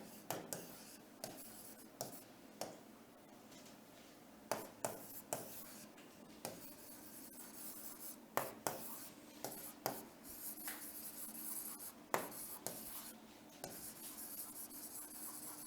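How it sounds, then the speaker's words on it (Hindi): Quiet, intermittent scratching strokes of writing on a board, coming in short bursts with small pauses between them and no speech over them. "मान लो अपन इसमें ऑप्शन लिख देते हैं"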